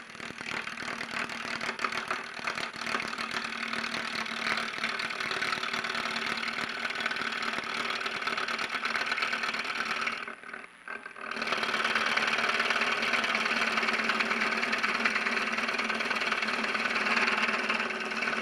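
A wood lathe at a woodturners' club demonstration runs steadily with a broadband mechanical whir and a faint low hum, briefly cutting out near the middle before resuming at full, close, even level with no talk.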